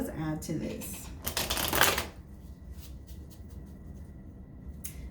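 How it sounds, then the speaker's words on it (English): Oracle cards for a twin flame reading are shuffled and pulled, giving a close, papery riffle and flutter that swells into a dense burst of card noise, then a few soft slides and taps. A quiet voice speaks over it. "let's pull a few twin flame cards here"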